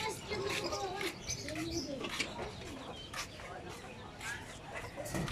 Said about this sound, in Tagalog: Itong mga sisiyo natin mga idol.